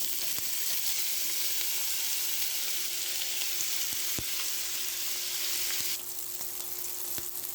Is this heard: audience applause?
no